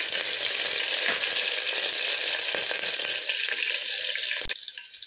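Cumin seeds and green chillies hit hot oil for a masala bottle gourd dish, giving a loud, continuous close sizzle that cuts off sharply near the end and then settles to a quieter fry.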